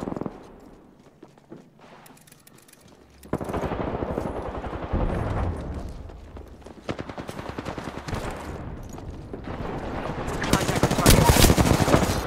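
Gunfire in the Apex Legends video game: bursts of rapid automatic shots break out after a quiet start, then keep rattling close and loud, with the densest volleys near the end.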